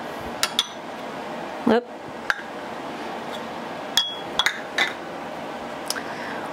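Sour cream and white sugar are mixed for a cheesecake topping, with scattered clinks and taps of a utensil against a bowl, one louder knock, and brief scraping under a quiet room hum; a voice briefly exclaims.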